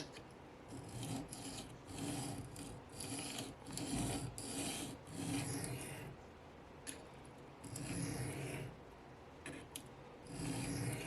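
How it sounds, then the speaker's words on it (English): A Spyderco Para3 LW knife with CTS BD1N steel is sharpened in quiet, uneven rasping strokes, with short bursts of scraping separated by brief pauses. "I've never sharpened this steel before either."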